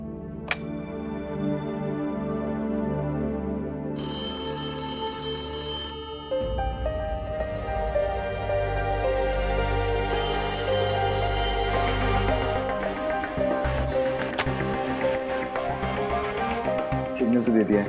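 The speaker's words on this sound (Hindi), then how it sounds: "सिग्नल तो दे दिया है, अब शायद नैना ही फोन उठाएगी।" A telephone ringtone plays in a repeating melodic pattern as a call is placed, steady and fairly clear with no talking over it.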